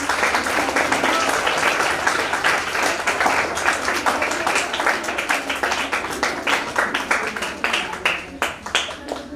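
Audience applause at a school robotics expo, dense crowd clapping filling the hall and gradually thinning toward the end, with voices mixed underneath.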